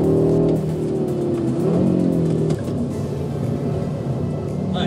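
Audi RS 3 in performance mode revving hard as it accelerates, a loud, steady engine drone with a shift in pitch partway through, close up from inside the car.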